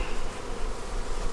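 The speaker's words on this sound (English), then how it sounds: "Okay, there's some bees." Honeybees buzz at an open hive in a Demaree bee yard just after smoke is puffed over the frames: a dense, steady, close swarm drone with no talk.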